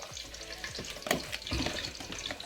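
Tomatoes frying in a pan with yogurt about to be added, a steady crackling sizzle with stirring scrapes and a few louder clatters, close and continuous without talk.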